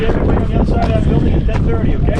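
Steady, blustery wind buffets the microphone in a low, continuous rumble on the cold summit of Mount Washington, New Hampshire, with faint voices murmuring underneath.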